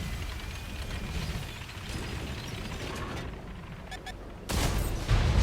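A tank cannon fires in the World of Tanks console game as a sudden loud, low blast near the end, following muffled battle rumble and small mechanical clicks.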